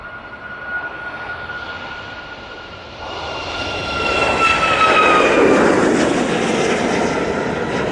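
A jet airliner landing at Manchester Airport with full reverse thrust: a steady engine roar swells into a loud, broad rushing surge midway and stays strong to the end, with no talk.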